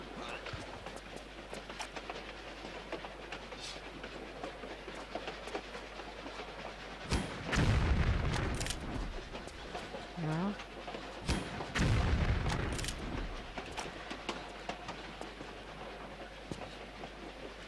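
A moving train in the PC game Tomb Raider: The Last Revelation gives a continuous rattling rumble, with two louder bursts of clanking and thudding midway through, heard at moderate level.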